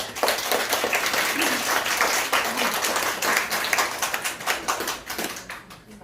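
An audience at a lecture-concert applauds a men's vocal performance, with steady, dense, close clapping throughout that tapers slightly at the end.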